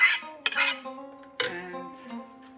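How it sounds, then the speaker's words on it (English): Onion goes into a pot of homemade vegetarian chili with squash, bringing a few close clanks and clinks of a utensil against the pot, two sharper hits followed by ringing metal tones. "And now I put some onion"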